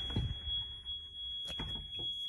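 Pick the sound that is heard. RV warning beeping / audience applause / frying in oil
RV warning beeping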